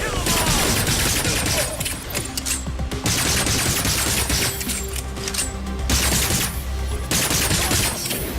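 Continuous heavy gunfire from the video game Agents of Mayhem, rapid bursts and volleys of shots with explosive crashes, loud and dense throughout with faint talk underneath.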